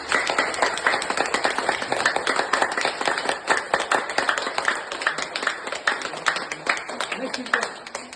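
Forceful hand clapping done as a health exercise, a long run of close, sharp claps in a quick, steady rhythm that keeps going without a break.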